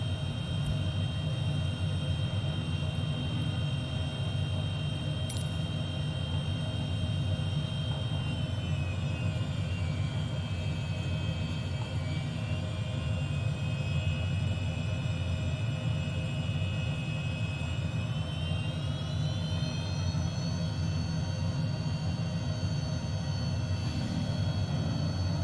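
A nearby jet aircraft in Microsoft Flight Simulator 2020 roars steadily during takeoff, with a dense continuous engine drone and a high whine that dips and rises midway, heard without talk.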